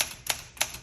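Keys strike on a 1966 Olympia SM9 manual typewriter, three crisp, close clacks spaced about a third of a second apart, each a sharp metallic snap with no talk over it.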